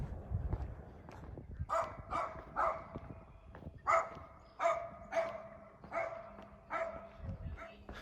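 A dog barks from up ahead on a warm morning walk: a series of distant, evenly spaced barks over several seconds, faint beneath the walker's footsteps and some soft talk.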